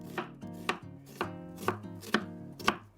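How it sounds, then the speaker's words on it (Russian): A knife cuts red onions into half rings on a cutting board, six evenly spaced crisp chops with a thud on each stroke, close and clear with no talking. "Полукольцами режу 2 красные луковицы."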